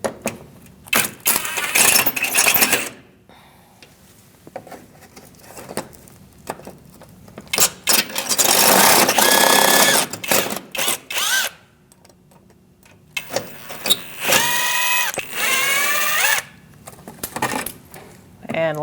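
A power tool spins out splash shield bolts under the front of a 2016-2019 Chevrolet Cruze, several loud whirring bursts with rattling pauses between them and occasional clinks of loose parts.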